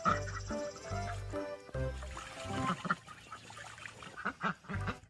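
A duck calling in a series of loud, nasal quacks near the microphone, several separate honking bursts with brief gaps, mixed with some background noise.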